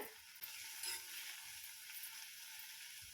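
Fresh coriander leaves sautéing in a hot pan for a chutney give off a faint, steady hiss of sizzling, continuous and unbroken with no voices.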